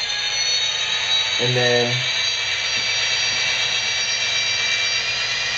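Digitrax SFX004 sound decoder in a model train plays a continuous loud engine rumble with a high steady whine, under a brief spoken phrase.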